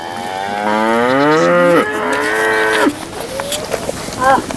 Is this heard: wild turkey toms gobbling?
no